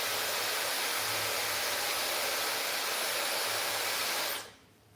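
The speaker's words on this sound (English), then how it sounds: "the Dyson cut down on my dry time a lot" Dyson hair dryer blowing on wavy, loosely curled hair: a steady, loud, close-up airflow roar with a faint low hum, running continuously before cutting off near the end, with no talking.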